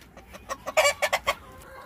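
Chickens on a backyard homestead clucking in a quick run of about six short, bright calls that grow louder toward the middle, close by, with no talk.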